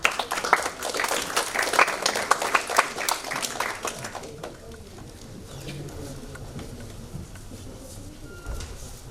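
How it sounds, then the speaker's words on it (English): Audience at a tourism technology symposium applauding a speaker, a burst of clapping that fades after a few seconds into a quiet room murmur. "Please give a round of applause to Mr. Rickson Go."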